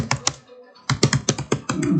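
Bursts of computer keyboard typing while entering SQL Server database commands, quick uneven clusters of keystrokes with a short pause partway through, close and fairly loud.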